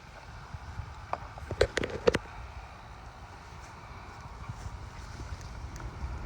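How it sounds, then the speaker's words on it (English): Steady outdoor wind buffets the microphone at a dove hunt, a low continuous rumble with a few brief louder knocks near the start. "the wind's coming at us right now"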